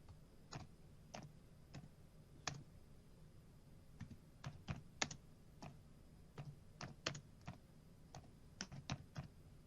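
Someone types on a computer keyboard in sparse, quiet bursts: single clicks and short clusters of keystrokes with pauses between them, heard close against a faint background.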